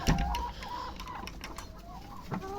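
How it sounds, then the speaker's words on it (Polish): Chickens in a farm coop clucking and cooing softly in short repeated calls, fairly quiet and slightly distant, with no talk. "żeby mi kury tam harmidru nie narobiły"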